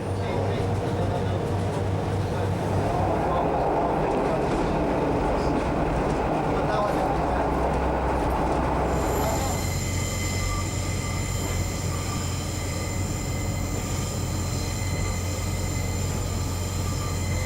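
Train on the Middlesbrough line between Saltburn and Kildale rumbles along with a steady wheel roar, and sustained high squeals of the wheels begin midway and continue to the end.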